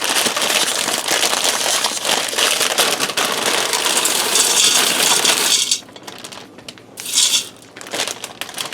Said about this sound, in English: Now I'm also going to add in some wide egg noodles